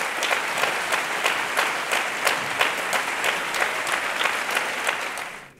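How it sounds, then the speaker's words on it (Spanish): Sustained applause from a theatre audience at a Passion of Christ performance, dense, steady clapping from many hands that carries on evenly for several seconds before fading out at the end. "para él pido un aplauso, por favor"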